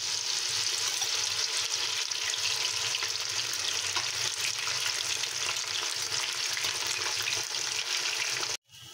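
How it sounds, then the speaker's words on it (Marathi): Cornflour-coated soya chunks deep-frying in hot oil for a Manchurian dish give a dense, steady crackling sizzle that carries on without a break, then cuts off abruptly near the end. "आणि मग हे चांगलं मिक्स झाल्याच्या नंतर आपल्याला ते तेलामध्ये तळून घ्यायचं आहे"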